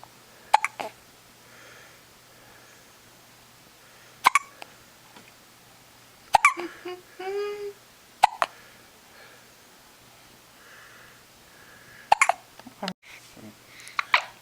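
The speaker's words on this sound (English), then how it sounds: "More hiccups?" A baby hiccups repeatedly at irregular intervals of several seconds, each a sharp close catch, with soft baby vocal sounds and gentle breathing between them in a quiet room.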